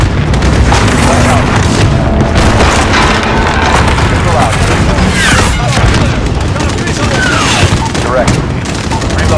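Loud, continuous wartime din from Call of Duty Modern Warfare during an embassy mission, with heavy booms and rolling blasts from an air strike mixed with rapid gunfire, dense and unbroken throughout.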